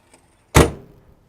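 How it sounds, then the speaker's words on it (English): A single solid exterior compartment door on a 2008 Winnebago Journey 39Z motorhome slams shut nearby with a sharp thud and short rattle, preceded by a faint click. "Love the compartment doors, they shut very nicely."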